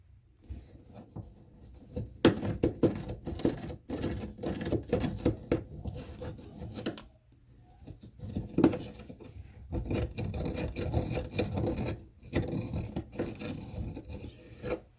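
Rust being scraped out of a toilet part with a tool, rapid rasping and scratching strokes in uneven bursts with brief pauses, close and fairly loud, no voices.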